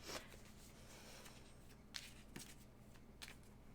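Tarot cards are shuffled by hand in a quiet indoor setting, a soft continuous riffling rustle with a few sharper slaps and taps of the deck.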